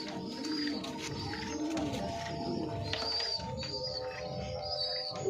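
Pigeons feeding their chicks coo steadily in soft, repeated rounds close by, with low throaty calls overlapping throughout and no talking.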